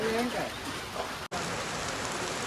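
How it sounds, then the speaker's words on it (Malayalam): Steady, dense rain roars throughout, with a faint voice early on and a momentary dropout midway before the downpour continues. "നല്ല മഴയാണ് ഒരു രക്ഷയില്ല"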